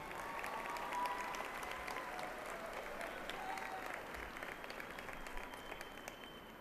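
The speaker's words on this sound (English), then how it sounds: "Another round of applause," Graduates and guests at a 2015 spring university commencement ceremony clap in a dense, sustained round of applause that runs evenly throughout and fades slightly near the end.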